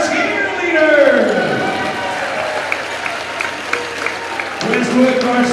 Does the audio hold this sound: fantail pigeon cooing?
no